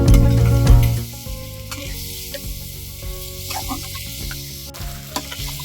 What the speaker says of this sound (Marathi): आता यामध्ये हा भिजवलेला बासमती तांदूळ आपण घालायचे आणि तो पण ह्यात छान परतून घ्यायचा